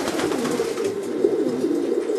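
A racing pigeon, bird number 222 from a German breeder's loft, coos in a low, continuous rolling murmur, close and steady, with no voices.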